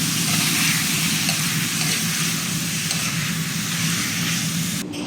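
Chicken frying in a pan gives a loud, steady, dense sizzle and hiss that runs unbroken for several seconds close up, with faint stirring underneath and nobody speaking.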